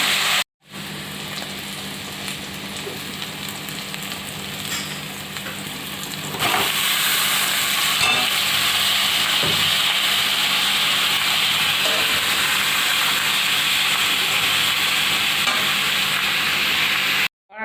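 Potatoes and carrots frying together in a pan, a loud continuous hiss and sizzle that swells after a brief gap, steady throughout with a few faint knocks, no talking.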